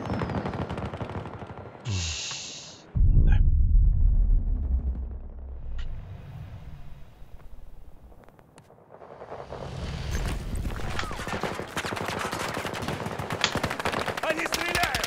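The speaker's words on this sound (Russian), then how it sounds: "Они стреляют!" Battlefield 2042 combat brings a loud burst of rapid gunfire after a brief electronic tone, followed by distant crackling shots and a noisy battlefield rumble, with a voice speaking briefly.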